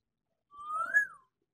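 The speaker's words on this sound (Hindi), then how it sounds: "हैवी टॉकिंग में ये सीटियाँ बजा रहा है" An African grey parrot whistles a single clear note that rises and then falls, close by in an otherwise silent space.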